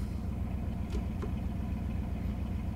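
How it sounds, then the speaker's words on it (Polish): A vehicle engine in the video game Counter-Strike 2 gives a steady low rumbling drone, continuous and moderately loud throughout, with no speech. "Nie wiem, czy słyszycie dźwięk silnika"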